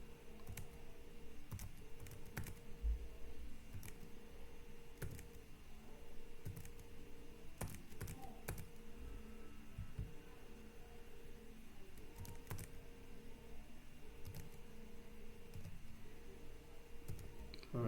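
Someone types numbers on a computer keyboard in scattered, isolated keystrokes and clicks spread over a long stretch, quiet and close, against a faint steady electrical hum.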